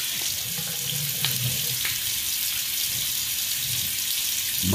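Running tap water pours steadily into a sink while a shaving brush is rinsed, a close, loud, continuous splashing hiss with faint shifts as the brush moves under the stream.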